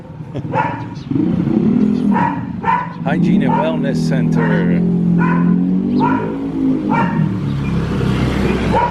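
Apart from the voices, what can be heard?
dog barking on a street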